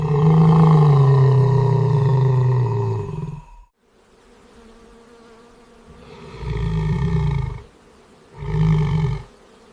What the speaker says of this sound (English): The lion responds with a low, guttural growl.